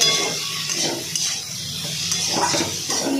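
A spoon stirs Morola fish curry with chilli in a pan, giving repeated scraping swishes over a constant bubbling sizzle, close and fairly loud, with no talk.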